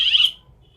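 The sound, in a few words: motorized gate controller alarm sounding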